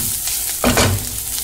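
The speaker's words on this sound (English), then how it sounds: "Let me add the turmeric powder to it and fry for a bit." Turmeric powder hits a hot pan and fries, a brief louder sizzle and stirring burst rising midway from a steady kitchen background.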